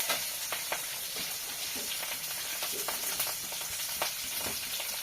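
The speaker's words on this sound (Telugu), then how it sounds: "పప్పు ఉడికించిన, నాకు కుక్కర్ కూడా లేదనమాట. ఇలానే ఉడికించేసిన అనమాట. అయితే లైట్గా ఫ్రై చేసుకుంటున్నాను." Boiled dal lightly frying in a pan, with a steady close sizzle and scattered soft stirring scrapes.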